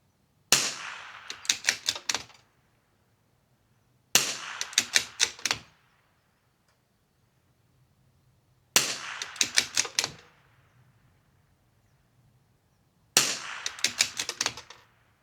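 Loud, sharp cracks from a Vudoo V22 rimfire rifle come in four separate clusters of about five rapid reports each, with quiet gaps between clusters at an outdoor range.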